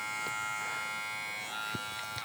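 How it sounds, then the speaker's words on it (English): Hush Pro hair trimmer switched on and running, giving a quiet, steady electric buzz close by with a few small clicks and handling knocks. "I turned the trimmer on for y'all. Same thing with the trimmer, really, really quiet trimmer."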